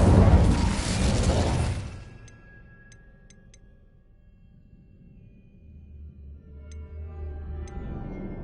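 An Incendio fire spell in Hogwarts Legacy erupts as a loud roaring burst of flame for about two seconds, then dies into a low rumble with a few faint ticking sounds.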